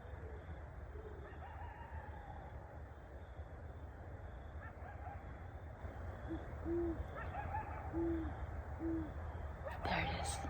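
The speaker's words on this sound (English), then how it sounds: "I've got a coyote going in the background, and I just heard an owl." Faint owl hoots sound a few times in the distance over a steady outdoor hum on a hiking trail, with a coyote calling in the background and a sharp noise near the end.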